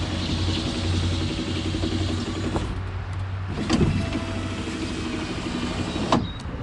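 A repaired power window motor runs in a Ford Club Wagon van, a steady whining electric drone inside the vehicle, with a couple of mechanical clunks as the glass moves and stops.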